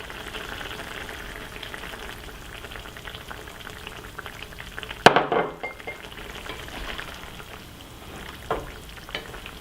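Sauce goes into a hot wok of mapo tofu with one sudden splash and burst of sizzle, then settles into a low, steady frying crackle that continues quietly afterward.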